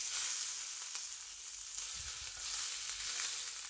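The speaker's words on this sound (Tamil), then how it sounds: "இதே ஆயிலில் ப்ரான் ஃப்ரை பண்ணிக்க போகிறோம்." Prawns fry in hot oil in an iron skillet, giving a constant bright hiss and crackle that stays at an even level throughout, with no talking.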